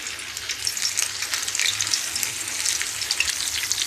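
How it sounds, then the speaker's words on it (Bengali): Battered chicken popcorn pieces fry in hot oil with a dense, continuous bubbling crackle, loud and close throughout, with no one talking. "এই যে একদম গরম তেলে আমি দিয়ে দিলাম"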